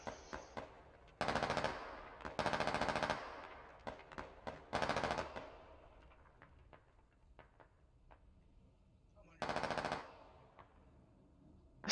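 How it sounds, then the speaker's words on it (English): Long-range machine gun fire in the tactical shooter Squad: several short, sharp bursts spaced seconds apart, echoing across open terrain between scattered single cracks, with no talking. "Who is this machine gunner?"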